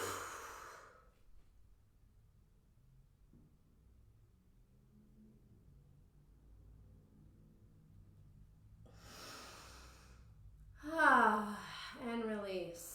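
Slow, deep exhales during a yoga hip-opening session come as soft breathy whooshes, one early and another later, with a gentle sigh near the end amid quiet pauses.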